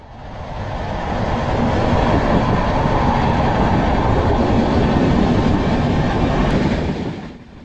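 Howrah Duronto Express rolling loudly through Cuttack station, a dense roar of wheels and carriages that swells in, holds steady for several seconds, then fades out, with no voices.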